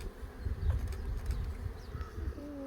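Honeybees buzzing steadily as they fly in and out at a large apiary in Kazakhstan, a continuous swarm drone with passing individual bees close by.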